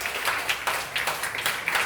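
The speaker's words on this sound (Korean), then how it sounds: "박수 한번 보여주세요" A church congregation of young adults claps together in a brief burst of close, rhythmic handclaps that repeat for about two seconds.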